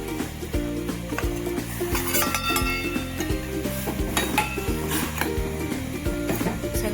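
Flour is stirred into boiling water in a pot to make modak dough. A utensil scrapes and knocks against the pan in a steady repeated rhythm, close and fairly loud, with no talk.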